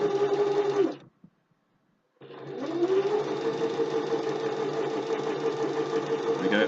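A domestic sewing machine runs steadily as it stitches bow tie fabric, breaking off into a brief pause near the start before restarting with a sustained, even whir, loud and close with no voices.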